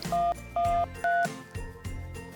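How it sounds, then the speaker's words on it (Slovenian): Telephone keypad dialing the emergency number 112, three clear, evenly spaced tones beeping one after another, followed by quieter low clicks. "On je vzel v roke telefonsko slušalko in na številko 112 poklical reševalce."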